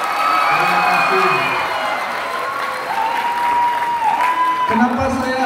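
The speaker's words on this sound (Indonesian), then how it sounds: "Kita berikan aplaus yang seluas-luasnya untuk seluruh panitia. Tepuk tangannya." Audience applause at a school farewell celebration, a dense, steady wash of clapping from a large crowd, with a voice speaking over it.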